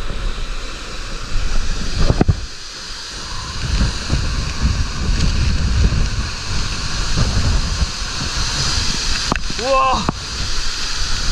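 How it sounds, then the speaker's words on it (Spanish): A waterfall some 60 to 70 metres high in the Sierra de las Minas, Zacapa, roars as a steady broadband rush throughout, with a person exclaiming briefly over it. "lo que quiero ver es si puedo ingresar en esta parte para ver cómo cae el agua desde arriba"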